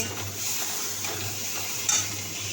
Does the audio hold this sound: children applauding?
no